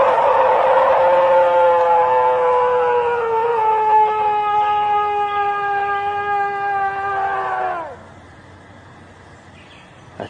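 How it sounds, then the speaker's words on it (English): Bellowing mating call of a moose or elk, a long loud wavering drawn-out cry with rich harmonics that slowly falls in pitch before cutting off, leaving quiet outdoor background. "That bellow, though, was actually from a moose or an elk."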